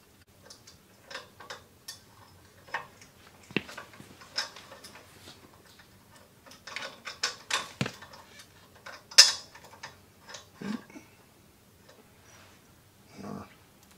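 Bolts are unscrewed from the head assembly of a Woodland Mills HM126 sawmill, producing scattered metallic ticks and ratcheting clicks in short irregular bursts, close by and fairly quiet, with brief handling knocks between them.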